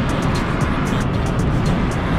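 A car rolls steadily around curves, its broadband road and engine noise holding constant and fairly loud throughout, with no talk.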